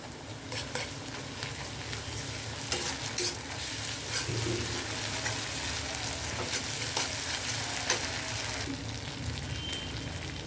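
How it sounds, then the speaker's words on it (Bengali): Mustard paste and green chillies fry with lightly browned onions in a pan, giving a steady, dense sizzle with scattered crackles and occasional stirring scrapes throughout. "এবার আমি বেটে রাখা সর্ষে আর কাঁচা লঙ্কাটা এর মধ্যে দিয়ে দেবো"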